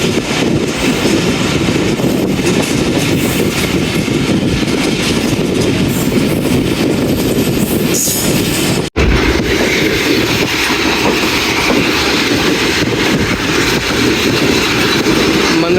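Jaffar Express, 40 Down, on its run between Attock and Lahore, heard as a steady, loud rolling rumble of wheels and carriages with wind buffeting and a brief dropout midway, no voices.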